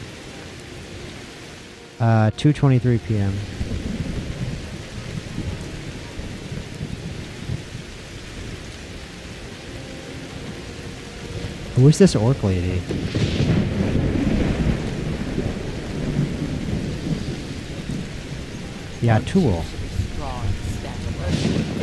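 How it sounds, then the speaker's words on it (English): Heavy rain and a rolling thunderstorm in the Skyrim video game, a constant loud downpour broken by a couple of sharp thunder cracks, with someone talking briefly over the storm. "This storm is very loud."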